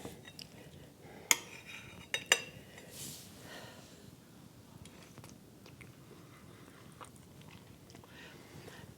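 Salisbury steak with gravy from a slow cooker is being eaten, with a few sharp fork clinks against a plate near the start, then soft close chewing and quiet mouth sounds.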